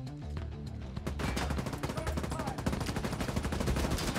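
An enemy turret firing in The Division 2: a fast, continuous burst of automatic gunfire, loud and sustained, with faint voices beneath.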